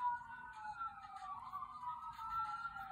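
An ambulance siren wails steadily from outside, a faint, continuous rising and falling tone heard at a distance.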